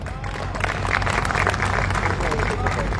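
Listeners at a live poetry recital in Karnal clap for the poet Anil Agravanshi. Steady crowd applause runs beneath a low hum, with voices and murmuring alongside.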